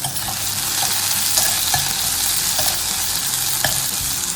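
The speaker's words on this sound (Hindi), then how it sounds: "जब तक प्याज पक रहा है" Onions frying in a pan, a dense continuous sizzle and crackle close by with occasional soft spatula taps, no talking.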